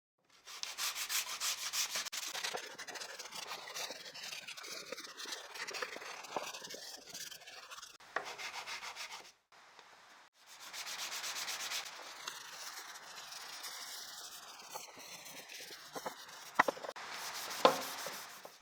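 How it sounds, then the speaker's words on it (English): Sandpaper rubs back and forth over a wooden piece in steady scratchy strokes, 180 grit then finer, pausing briefly midway before the sanding resumes. "final hand sanding is done with 180 grit and a finer one for finishing touches"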